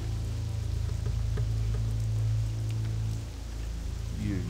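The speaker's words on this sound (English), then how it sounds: "we stand here in the rain" Steady rain falling in World of Warcraft, a continuous hiss of drops pattering over a low, even ambient hum, with no speech.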